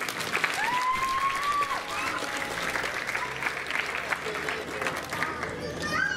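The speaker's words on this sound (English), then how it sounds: "Let's give another round of applause" County fair crowd gives a round of applause at an outdoor show, sustained clapping from many people with scattered whoops and chatter mixed in throughout.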